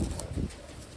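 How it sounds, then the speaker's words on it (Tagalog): A pigeon from a newly arrived batch of Taiwan birds gives a short, soft, low coo close by, fading after half a second into quiet background. "Ito yung ibon."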